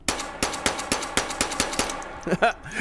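A P210 pistol with a .22 conversion kit fires in the H3VR video game, a quick, evenly spaced string of sharp, light pops that ends in a few softer mechanical clicks.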